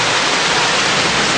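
Rain falling steadily, a dense and even hiss of broadband noise with no pauses, loud and close, with no voices.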